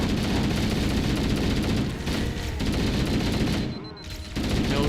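Heavy sustained gunfire from the Halo game on Legendary difficulty, a dense continuous barrage of automatic weapons fire with booming bursts filling the clip, briefly thinning near the end, with voices under the battle noise.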